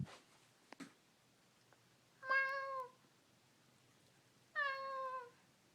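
A cat gives two clear, drawn-out meows a couple of seconds apart, close and distinct in a quiet room, preceded by a few faint clicks and rustles.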